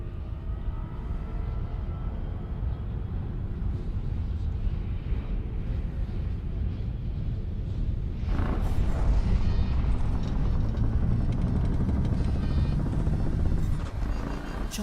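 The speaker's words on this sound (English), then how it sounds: "Charging the FTL drive." An FTL drive charges aboard a ship in the space game Elite Dangerous, a steady low engine rumble that swells into a louder, brighter surge partway through before easing off.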